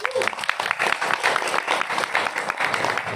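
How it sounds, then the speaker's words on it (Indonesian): An audience at a village gathering claps steadily and densely for several seconds, a close, continuous patter of many hands with a voice briefly audible at the start. "Tepuk tangan dong Mas."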